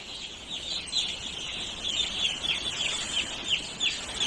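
Chicks in a round brooder on a poultry farm keep up a busy, overlapping chorus of shrill peeps, with repeated louder chirps rising over the constant twittering and no voices present.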